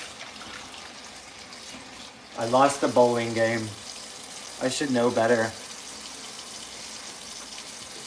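A tap runs steadily while dishes are washed at a kitchen sink, a continuous hiss that carries on under two short bursts of someone talking.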